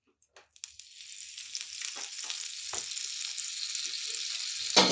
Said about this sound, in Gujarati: અને તવા ઉપર આપણે થોડું તેલ લગાવી હવે બટર એડ કરી દઈશું